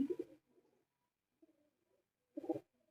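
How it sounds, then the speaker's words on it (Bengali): Soft coos from tournament pigeons, a low burbling call at the start and again near the end, with quieter murmurs between in a hushed setting. "এগুলো খুব সুন্দর কবুতর গুলা"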